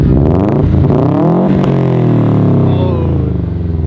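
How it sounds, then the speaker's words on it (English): A Subaru Bugeye with a 6-speed revs hard close by, its exhaust rising and falling in a loud, throaty surge with a sharp blip midway. "rev it up, it sounds so good"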